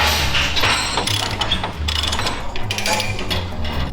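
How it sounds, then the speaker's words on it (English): A chain binder ratchets a chain tight around an engine sitting on a cage, giving loud, close, repeated metallic clicks in a steady rhythm with no talking. "throw a chain all the way through and strap it down side to side and chain binder it"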